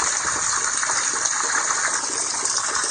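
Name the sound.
small flow of water trickling down a swale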